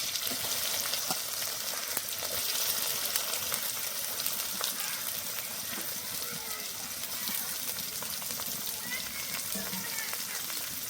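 Chopped onion and crushed garlic fry in hot oil for chicken ghugni, giving a steady, close, dense sizzle that continues for the whole stretch with light stirring scrapes.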